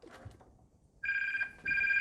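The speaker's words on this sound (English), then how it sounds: "Do excuse the phone." A telephone rings in two bright electronic bursts close by in a quiet room, the second starting after a short gap.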